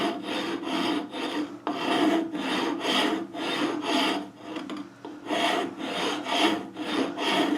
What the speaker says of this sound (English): You're going to use it whenever you're using a rasp.